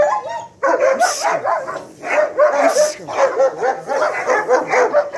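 A Malinois dog barks rapidly and repeatedly nearby during training, sharp loud barks in quick rhythm with a few higher yelps, while a person talks alongside.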